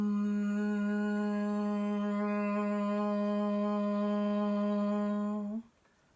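A single sustained sung Om chant for meditation, one long steady resonant voiced tone held for over five seconds at even loudness before it closes off and fades to quiet.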